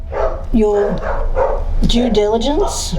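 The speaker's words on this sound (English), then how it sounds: "Sorry about the dogs outside" Dogs barking outside, a few yips and barks mixed under continuous close talking, partly masked by the voice.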